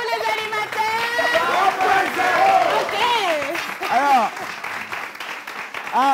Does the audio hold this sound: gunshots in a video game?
no